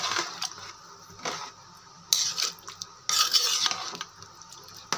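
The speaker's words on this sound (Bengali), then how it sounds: "এবার হাতা দিয়ে ভালো করে সমস্ত জিনিসটাকে মিশিয়ে দেবো চাল ডালের সঙ্গে।" A ladle stirs rice and lentils in a pot, giving a few scraping, clinking strokes with short bursts of grainy rustle between quieter pauses, close and alone without talk.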